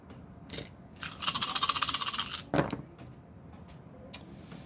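Dice clatter across a table during a Global War 1939 board game, a dense rattling burst lasting over a second, followed by a sharper clack and a few faint scattered taps, close by with no talk.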